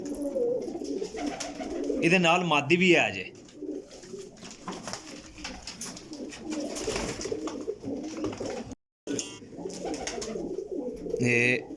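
Lakha slate pigeons coo in low, throaty bursts close by while someone talks over them almost throughout.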